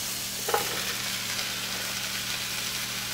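Mushrooms hit a hot frying pan with a steady broad sizzle, a brief stirring scrape near the start, then continuous even frying noise, close and moderately loud without speech.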